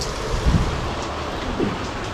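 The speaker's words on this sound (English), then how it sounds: "Fishing in the rain while sitting under the shed." Steady monsoon rain in Thailand falls on and around a shed beside a fishing spot, a continuous broadband hiss with a few slightly louder patters and no talk.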